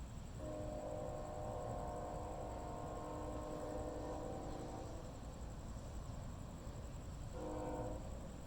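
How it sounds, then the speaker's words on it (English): A train horn sounds in long sustained blasts, then again briefly near the end, over steady rumbling rail noise as a short westbound train passes Veterans Park in Gilbert, Arizona. "still hear the train horn"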